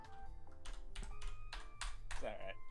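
Soft clicks and taps of typing on a computer keyboard sound faintly in short bursts while a game of DooM plays, set under quiet game sounds and background music.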